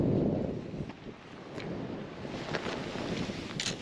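Strong wind buffets the microphone in heavy, rumbling gusts while fishing on the Cromarty Firth, with faint splashing and creaking in the background.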